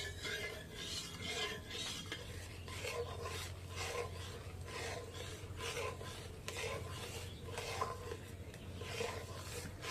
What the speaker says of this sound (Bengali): এবার আমি কিন্তু অনবরত নাড়তে থাকবো।